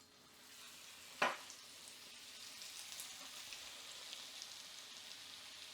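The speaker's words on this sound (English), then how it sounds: "Just let the butter melt completely in there." Soft, steady sizzling crackles of butter melting in a hot frying pan before frying fish, with a single sharp clack near the start, quiet and close.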